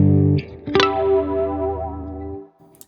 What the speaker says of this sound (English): LFO1 to me is kind of more the classic flanger, the classic chorus, classic vibrato sound